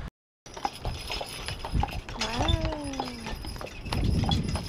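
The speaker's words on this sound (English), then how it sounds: "Want to see my horses?" Horses at a stable near Bryce Canyon give a clear neigh with falling harmonic sweeps, over steady outdoor noise, muffled handling thumps and faint hoof clops.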